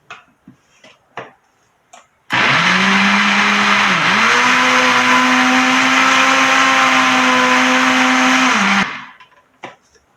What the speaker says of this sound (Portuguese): a gente vai bater no liquidificador até homogeneizar tudo